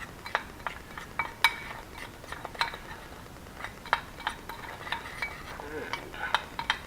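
Spices being stirred together in a bowl for back ribs: a spoon gives light, intermittent clinks and scrapes against the bowl, fairly quiet and close, with no talking.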